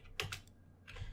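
A web address typed on a computer keyboard: a few quick, soft key clicks in two small bursts separated by a short pause, quiet and close.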